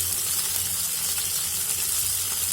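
Chopped tomatoes with salt added to onions already fried red in a pan, giving a soft, even sizzling hiss that stays constant and close throughout, with no voices.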